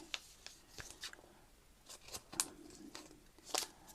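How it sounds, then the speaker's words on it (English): Scissors snip and cut through a package of advent ephemera and washi tape, a series of short sharp clicks and crisp cuts at uneven intervals, close up with no talking. "we open the package"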